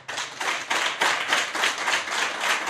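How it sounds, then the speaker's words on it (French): At a press conference, a short burst of applause rings out, rapid overlapping hand claps from a small group, fairly close and steady for under three seconds, with no voices. "Nous sommes à une conférence de presse, on n'applaudit pas."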